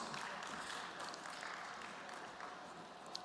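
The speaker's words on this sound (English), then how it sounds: "With your applause." Audience applause at an international investment forum panel session, a soft, steady patter of many hands clapping for about three seconds, sounding somewhat distant, with no voices on top.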